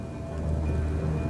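Steady rain pours down in the November wet season on the East African plains, a dense even hiss with low rumbling underneath and no voices.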